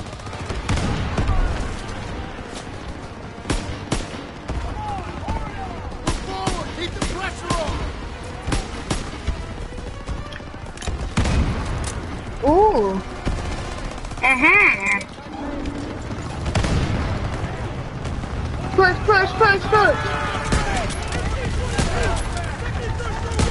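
Sustained gunfire from towers during a late mission in a World War II video game, sharp repeated shots and bursts scattered throughout under ongoing game noise, with someone talking over much of it.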